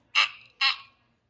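A voice imitates a little green frog's croak during a children's frog story read aloud, two short bright croaks spaced about half a second apart, close and clear with silence after.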